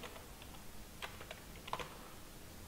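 Soft, quiet typing on a computer keyboard, a sparse run of light key taps with a couple of slightly firmer presses over a steady low background hiss.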